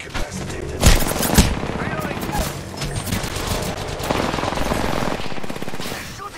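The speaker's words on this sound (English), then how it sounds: "They're shooting at me." Automatic gunfire in the battle royale game Apex Legends, dense rapid bursts and a couple of louder booms sustained across the whole span, mixed with game effects and no clear speech.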